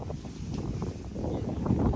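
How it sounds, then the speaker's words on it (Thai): Wind blowing outdoors in a rural spot where cattle graze, a steady broadband rush buffeting the microphone throughout, growing slightly stronger toward the end, with no talk. "เบิ่งลมพัดดีนะ"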